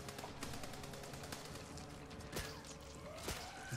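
Rapid automatic gunfire in the zombie shooter Back 4 Blood, a fast rattling stream of shots with a couple of louder bursts standing out, set in a busy, noisy fight.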